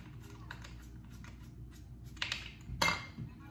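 Small metal bolts coated with Loctite are handled and threaded back in while a custom derby cover goes onto a 2012 Harley Ultra Limited, giving faint, close clicks and light metallic clinks that sharpen into a brief burst near the end.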